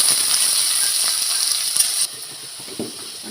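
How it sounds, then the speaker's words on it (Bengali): Chopped onions hitting a pan and frying in hot oil, a loud steady hiss that cuts off abruptly partway through, followed by quieter scattered crackles. "আর কিছু পেঁয়াজ কুচি, পেঁয়াজটা হালকা ভেজে নেব।"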